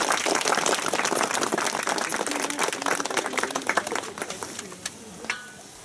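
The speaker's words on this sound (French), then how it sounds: "Vous pouvez les applaudir." An outdoor audience at a commemorative event applauds Napoleonic reenactment groups, with dense clapping that thins out into scattered claps and fades to a few last hands, while voices murmur underneath.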